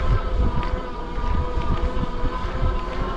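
Electric motor on a Rad Power Bikes RadRunner 3 Plus or Specialized Globe Haul ST cargo bike whines steadily at higher pedal cadence, mixed with constant wind rush and low road rumble.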